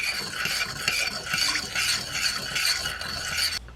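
A spoon stirring black pepper and pepper flakes into a sauce, rhythmic scraping and swishing strokes against the pan, close and continuous, with no talking.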